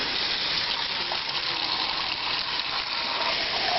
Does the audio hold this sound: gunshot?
no